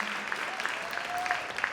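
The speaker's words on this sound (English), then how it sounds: "let's give all of our contestants one more round of applause" Audience at a winter carnival queen's pageant clapping for a contestant, a moderate steady patter of applause from a room of people, fairly close and without talk.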